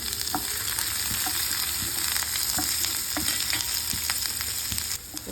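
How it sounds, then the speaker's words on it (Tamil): Onions sautéing in hot oil in a pan fill the clip with a steady, close sizzle, with scattered clicks and scrapes from stirring and no voices. "பேன் சூடாகிடுச்சு கொஞ்சம் எண்ணெய் விட்டுக்கலாம் வெங்காயத்தை போட்டு வதக்கிக்கலாம்"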